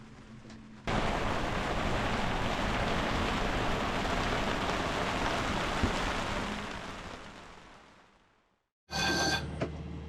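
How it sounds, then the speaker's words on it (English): Steady rain hisses on a boat, a soft dense patter that fades away, then briefly returns. "it ended up just raining for like 24 hours straight and being really nasty out"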